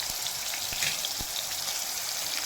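Paneer frying in a pan gives a steady, even sizzle with scattered soft pops and crackles, moderately close and continuous with no talking.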